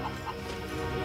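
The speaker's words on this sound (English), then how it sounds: "This is Zorro, who came here to steal my chickens." Chickens clucking in a farmyard scene from the Zorro adventure series, a brief, close burst of short fowl calls over a busy background.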